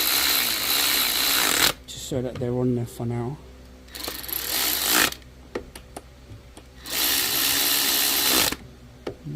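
An impact gun tightens bolts on a Vauxhall Zafira A GSI engine during an oil sump gasket and timing belt job. It fires in three loud, harsh bursts, and someone speaks briefly in the pauses between them.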